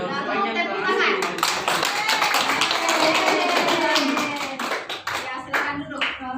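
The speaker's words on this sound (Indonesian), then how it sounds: "Lalu tepuk tangan." A class of students clap their hands together in a classroom, a dense burst of many overlapping claps that thins into scattered separate claps near the end.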